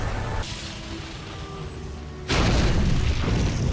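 Fireworks burst in the Harry Potter Goblet of Fire PC video game, a low booming blast erupting partway through over a steady background hum and then sustaining as a loud, dense rumble.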